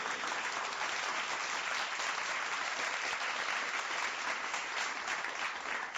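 Audience applause at a Punjabi radio program event, a dense, steady clapping that fills the whole stretch at even loudness.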